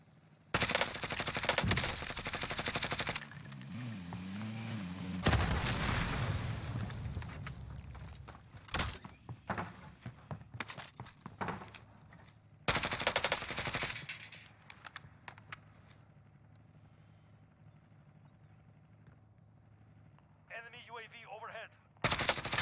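Bursts of rapid gunfire from an unusual hard-hitting gun in Call of Duty Warzone, loud rattling volleys broken by quieter gaps, with scattered game effects and a voice talking in between.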